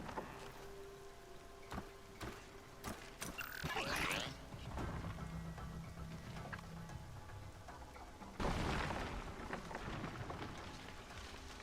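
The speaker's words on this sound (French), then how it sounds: "Ah, encore une dent de scie." Mechanical creaks, clanks and whirring from a Sawtooth, a robot creature in the video game Horizon Zero Dawn, come in irregular bursts over a low rumbling game ambience, with a louder surge near the end.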